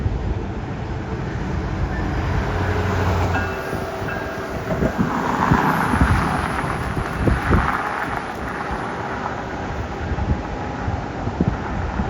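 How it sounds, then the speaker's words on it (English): A northbound Coaster commuter train rumbles past along the beach, a loud continuous roar with wheel clatter that swells around the middle and stays strong throughout. "And now a northbound coaster a couple minutes later."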